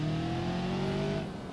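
An Ibishu 200BX inline-4 engine in BeamNG.drive holds a steady, close droning hum with clear harmonic tones, easing slightly in pitch and loudness toward the end.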